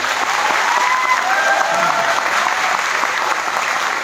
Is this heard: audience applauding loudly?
yes